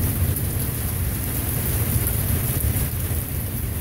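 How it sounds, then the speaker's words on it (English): Heavy rain pours steadily during a Minneapolis thunderstorm, with a constant low thunder rumble beneath a dense, unbroken hiss of rainfall, loud and close throughout. "I think the intensity of the rain is increasing. Thunder effect. Everything's increasing. It's just one continuous thunder."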